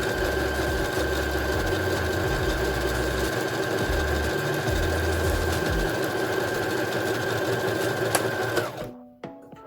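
A sewing machine runs steadily as it stitches a bralette, with fabric guided by one hand and elastic stretched slightly by the other. The motor hums continuously, close and loud, then stops abruptly near the end.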